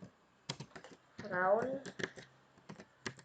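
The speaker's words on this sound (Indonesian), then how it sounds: "Dengan mengetik perintah select" A computer keyboard clatters with rapid, close key taps in uneven bursts as a command is typed, with a voice speaking briefly in the middle.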